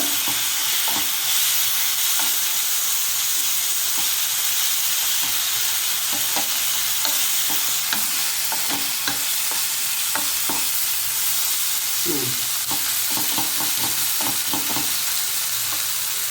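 Ginger garlic paste sizzles steadily in a hot pan, with a spoon scraping and stirring through it in repeated bursts of clicks and scrapes; close and continuous, no talking.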